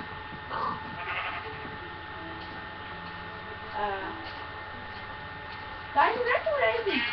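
Sheep bleat in the Minecraft video game, several short wavering calls spaced across the stretch, the last ones louder and overlapping, with players talking over the scene.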